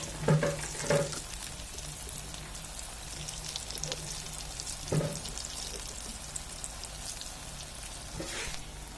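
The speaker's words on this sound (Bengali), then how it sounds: "তো আমাদের ভাজা প্রায় হয়ে আসছে" Raw banana chops frying in oil, a steady crackling sizzle with occasional sharp pops and utensil clinks, moderately quiet and with no talk.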